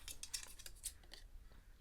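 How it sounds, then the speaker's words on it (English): Scissors cut through scrapbook paper in a run of quick, faint snips and crisp rustles, close by and unevenly spaced, with no talking. "So this one I am gonna cut with my scissors."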